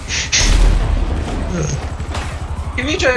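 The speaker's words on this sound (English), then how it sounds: "You mean try to kill me with a gas grenade" Gas grenade going off in GTA: a loud boom with a crackling, rattling burst, followed by more sharp hits and a voice talking near the end.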